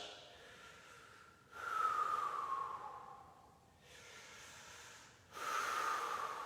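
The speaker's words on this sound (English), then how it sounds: "Find 4 more deep breaths." Deep, slow breaths during a yoga pose, with two long audible exhalations and a softer breath between them, close and clear with no talking.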